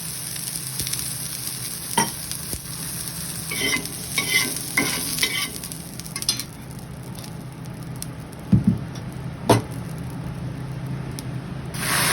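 Water sprinkled onto a hot chapati tawa over a low gas flame spits and sizzles in a close, continuous crackle, with a few sharper hissing bursts and scattered clicks.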